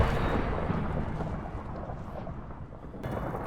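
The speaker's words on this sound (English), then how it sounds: "Then when I came back, it was thundering" Deep rolling thunder rumbles through a Minecraft thunderstorm, a loud low sustained roar with rain hiss that fades slightly before swelling again near the end.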